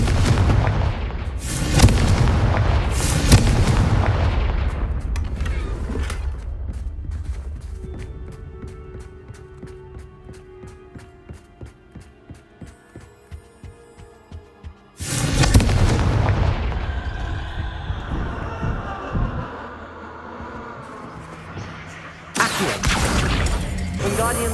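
Confringo fire spells exploding in the Hogwarts Legacy video game, loud booming blasts in bursts at the start and again later, with a quieter stretch of rapid mechanical clicking between them.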